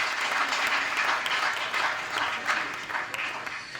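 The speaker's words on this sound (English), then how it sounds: "you will clap hands" An audience at a safety officers' launch event claps after a song, a dense, steady burst of applause from a sizable crowd that holds even throughout and tapers slightly at the end.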